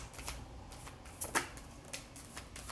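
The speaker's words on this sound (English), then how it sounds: "I only shuffle these once," A deck of reading cards is shuffled by hand in one quick pass, soft riffling flicks with a couple of sharper snaps, close and alone.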